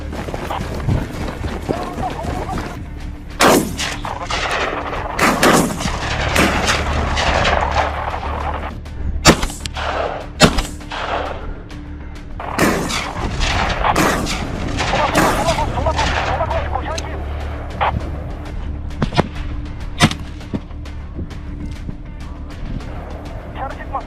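Rifle fire from Remington 700 and AR-15 rifles during a wild hog hunt in Arizona: repeated sharp, loud shots, some in quick bursts, spread irregularly over a steady rumbling background.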